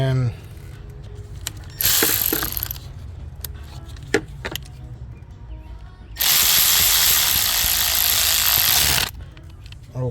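A hand ratchet turns T30 Torx bolts on the camshaft position sensors of a Mercedes 3.5-litre V6, with two bursts of rapid clicking and scattered taps and clinks of tools between them.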